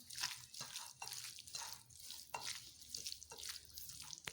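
Water pours into a cooking pot for boiling spaghetti, a soft, steady splashing rush with small surges, heard faint and alone.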